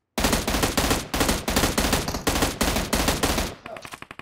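Bursts of automatic rifle fire from an enemy player in PUBG Mobile, about eight loud, close, rapid volleys in a steady rhythm, followed by a fainter, quicker string of shots at the end.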